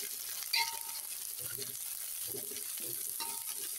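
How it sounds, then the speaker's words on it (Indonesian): Sliced chili and scallion stir-fry in a pan, giving a steady sizzling hiss with a few soft stirring clinks and faint voice-like tones underneath. "Jadi kita tumis bareng cabai ini"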